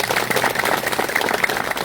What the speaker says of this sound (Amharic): ሞቅ ያለ ጭብጨባ አድርጉልን።